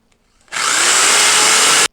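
A handheld power drill boring a hole through the side of a prototype assembly part, one loud, steady burst of high-pitched whirring that starts abruptly, holds for over a second and cuts off sharply, with no talk.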